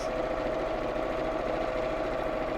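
A sewing machine hums at an even, constant pace, close and uninterrupted, as it stitches a quarter-inch seam across the top edge of a child's drawstring backpack.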